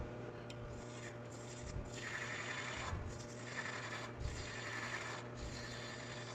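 A hand-chased threaded wooden lid is turned onto its matching wood thread, giving a continuous close dry rubbing and grinding with faint rhythmic ratcheting catches as the threads engage, fairly quiet and steady throughout, with no voices.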